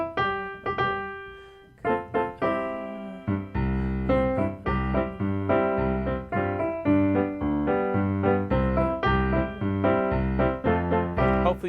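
Melody notes ring out on a keyboard or piano, a pair of opening tones followed by a fuller passage with bass and chords in a steady, lilting rhythm, loud and close with no talking.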